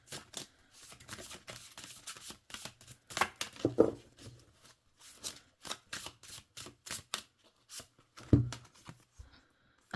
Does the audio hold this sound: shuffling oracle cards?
yes